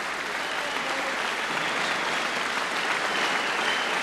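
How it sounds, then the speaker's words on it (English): A crowd applauds at a Superstars weightlifting contest, a dense, even burst of clapping that fills the room without pause. "generous applause from Brian Jacks"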